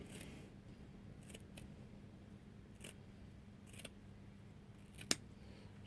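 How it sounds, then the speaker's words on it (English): A few crisp scissor snips cutting hedge material for a diorama, spaced out over a faint steady hum, each cut short and close, the last one sharper. "Hopefully these scissors are good enough to go through this."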